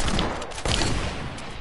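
Video game gunfire crackles in quick, dense bursts, loud and close, with a brief lull before another volley.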